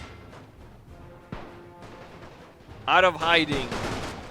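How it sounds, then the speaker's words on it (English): Gunfire in The Great War video game as a regiment fires on Russian cavalry, a sharp crack standing out amid steady background noise, while a loud voice talks over the battle. "The 47th Regiment opens fire upon the Russian cavalry."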